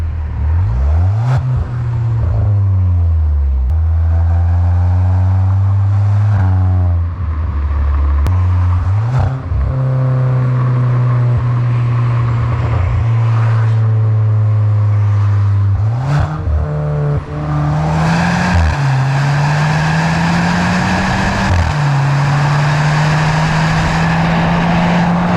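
Volkswagen Polo GT 1.2 TSI DSG with a full custom exhaust system, driving close up with a steady drone, rising revs through gear changes and brief drops in pitch between shifts.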